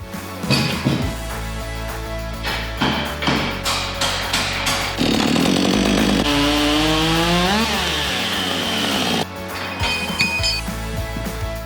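A chainsaw cuts across the top of a log to level it as a stand for an anvil, running loud and close for the whole stretch, with the engine revving up and bogging down as the bar bites in and pauses between passes.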